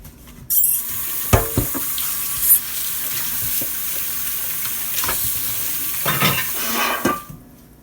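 Running tap water splashes steadily onto red lentils being rinsed in a kitchen sink, a continuous close rush with a few louder sloshes and clinks, no talking.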